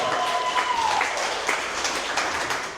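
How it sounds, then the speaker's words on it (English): Audience applause welcoming panel guests onto a stage at a talk on decentralized AI, a steady wash of clapping with a brief whistle-like tone early on and no speech over it. "We give him a round of applause"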